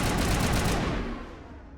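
A Lancer rifle fires in Mass Effect Legendary Edition, a dense, loud rattle of gunfire that holds steady for most of a second before trailing off into a fading reverberant tail.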